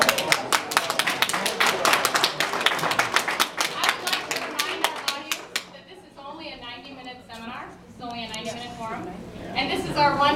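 Audience applause at a League of Women Voters candidate debate: a dense burst of clapping for several seconds that cuts off, followed by a voice talking over a quieter room.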